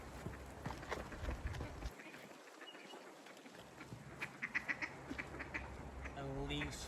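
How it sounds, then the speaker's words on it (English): Ducks on a pond quack in scattered short bursts over a busy outdoor background, with some faint voices nearby. "just ducks"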